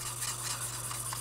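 Sanding stick with a blue abrasive side smoothing a plastic part from an Italeri German motorcycle and sidecar model kit, a soft steady scratchy rasp running continuously at close range with no talk.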